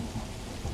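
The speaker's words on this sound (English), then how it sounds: "A drizzling rain has replaced the chilly autumn wind." Rain in a horror visual novel game, a drizzling downpour in chilly autumn weather: a steady, dense hiss of falling drops with a low rumble underneath, continuous and fairly soft, with no voices.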